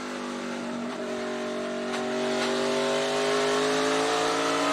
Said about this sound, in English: You can hear those skirts just scraping the road.